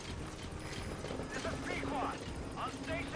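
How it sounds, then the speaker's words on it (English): An enemy helicopter in the video game Metal Gear Solid V: The Phantom Pain, a steady rotor chop and engine drone mixed with game sounds while people talk over it. "Enemy chopper."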